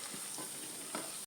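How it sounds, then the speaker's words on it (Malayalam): Soya chunks fry in a pan with a brief, steady, close hiss of hot oil and a couple of soft stirring scrapes. "ഒന്ന് അങ്ങോട്ടും ഇങ്ങോട്ടും തിരിച്ചും മറിച്ചു വിട്ടൊന്ന് ഫ്രൈ ചെയ്തെടുക്കാവേ."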